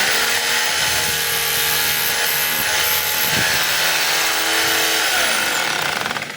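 A DeWalt D25033 rotary hammer runs in hammer-only mode, a loud, rapid, continuous mechanical hammering buzz held steady for several seconds before tapering slightly at the end, close up with no talking.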